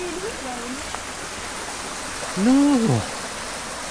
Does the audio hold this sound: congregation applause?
no